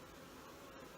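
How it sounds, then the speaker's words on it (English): Agitated honeybees hum in a steady, faint, distant drone during a July natural-beekeeping hive inspection, with cross-comb broken apart and a piece of comb fallen out; no voices are heard. "Bees are getting pissed"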